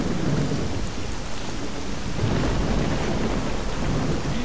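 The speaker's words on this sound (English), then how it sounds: "Rain intensifies." Heavy rain pours steadily outdoors in Pripyat while thunder rumbles low and continuous beneath it, a loud, unbroken wash of storm noise with no voices.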